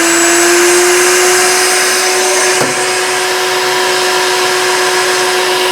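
A router mounted in a router table, running at full power at 22,000 RPM, gives a loud, steady high-pitched whine that continues throughout.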